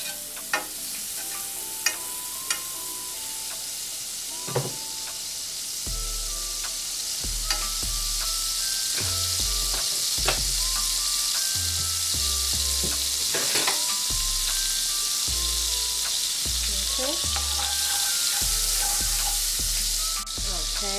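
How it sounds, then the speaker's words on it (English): Margarine melting in a heated pan on the stove, a steady hissing sizzle that swells louder after a few seconds, with scattered light clicks and taps of utensils against the pan. "once your pan is heated, we're going to put like some margarine"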